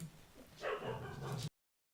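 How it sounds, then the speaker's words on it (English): Several dogs barking together in a house, a short burst of overlapping barks and yips close by that cuts off abruptly. "I have 5 5 dogs, my husband and I, and they just don't know when to stop barking"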